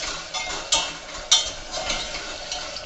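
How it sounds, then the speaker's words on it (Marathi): Chopped tomatoes sizzle softly in hot oil while a spoon scrapes and stirs them in a pan, with a couple of sharp clinks against the metal, all close and with no talk. "टोमॅटो चांगला असा परतून तेलामध्ये परतून घ्या"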